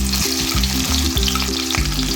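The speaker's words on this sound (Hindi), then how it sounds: "अब इसमें एक दरमियाने साइज का कटा हुआ प्याज शामिल कर देंगे" Chopped medium-sized onion frying in hot ghee in a kadai, a loud, close, continuous sizzle with crackling spatters and a faint rhythmic stirring underneath.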